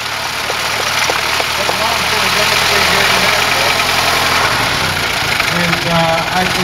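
A Ford Model T engine, hand-cranked at the front, idles at an old car festival with a steady, loud, close mechanical rumble throughout, and voices may be faintly present beneath it.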